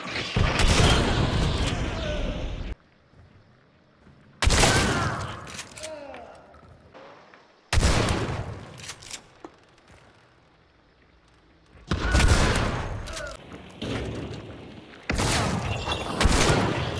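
Heavy shotgun blasts in the game Hunt: Showdown boom loudly at close range, several separate shots each followed by a long echoing tail and quiet gaps between them.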